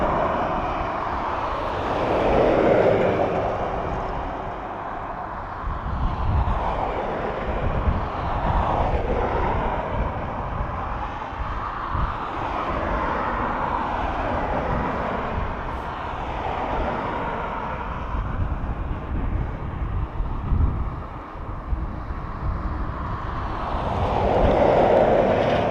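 Aer Lingus aircraft, around 17 years old, arriving from Milan at Dublin Airport, giving a sustained jet roar with rising and falling surges of whine over a low rumble, moderately loud and alone.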